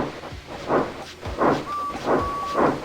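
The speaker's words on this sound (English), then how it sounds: "So they lit his fire, made lots of steam, and Edward puffed away." Steam locomotive puffing in a Trainz railway simulation game, a steady rhythm of loud chuffs about every half second with a brief whistle-like tone partway through.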